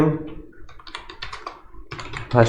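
Rapid bursts of keystrokes on a computer keyboard as HTML code is typed for an Angular 18 form, close and crisp clicking in uneven runs with short pauses between.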